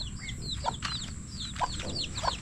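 A mother hen with a large brood of chicks clucks in short, repeated calls about once a second, close by, over a busy farmyard background of high chick peeps.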